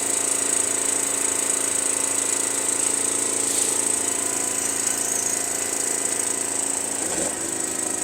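A power tool trimming a metal gutter to length, running with a loud continuous high-pitched buzzing whine that holds steady for several seconds, with a brief thud near the end.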